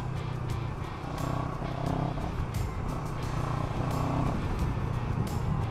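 A CFMOTO CL-X 700 Heritage motorcycle accelerating in sport mode, its engine note droning steadily and rising with harmonic bands throughout, close and loud with no one talking.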